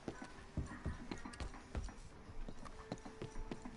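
Horse hooves clip-clopping in Red Dead Redemption 2, a steady walking rhythm of soft thuds with light creaking, moderately close over quiet outdoor ambience.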